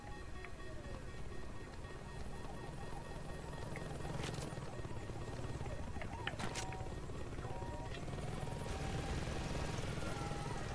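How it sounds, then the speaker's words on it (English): Helicopter rotors drone steadily on a rooftop in Saints Row 2, a loud, continuous engine-and-blade wash running throughout with a few brief clanks and game effects layered on top. "There should be a helicopter on the roof."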